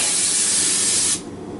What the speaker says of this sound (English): I'm spraying it, what I'm doing is I'm spraying it off camera over the sink.